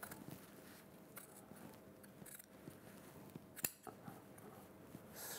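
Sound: scissors cutting the collar off a shirt

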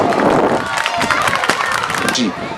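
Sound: children's crowd applauding

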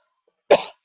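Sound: cough

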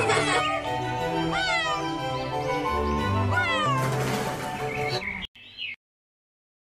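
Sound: cat meowing

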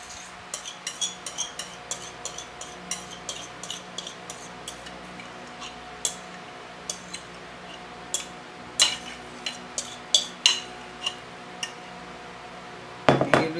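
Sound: butter knife scraping food out of a bowl

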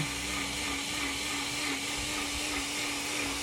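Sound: blender blending fenugreek leaves, sour tomatoes and green chilies

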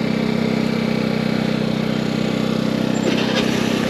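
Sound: small portable generator running

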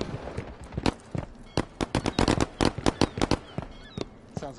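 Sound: fireworks popping in a video game

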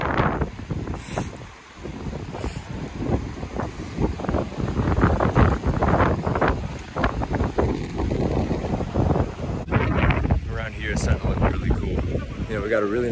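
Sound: wind blowing

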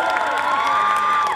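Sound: concert audience applauding and cheering

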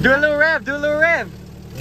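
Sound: Jeep engine revving with muffler removed

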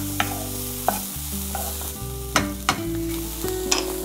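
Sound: sautéing spinach in a pan

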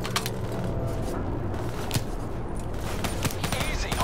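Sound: gunfire in Call of Duty: Black Ops III video game

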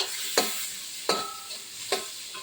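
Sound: mixing ground spices and garlic-ginger paste in a bowl

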